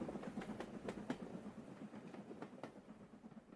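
A train locomotive runs along the rails, a faint, rhythmic clatter of wheels over track joints repeating steadily at a distance.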